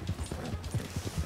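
Horse hooves clop over steep ground in Red Dead Redemption 2, a quick uneven run of close, dull thuds.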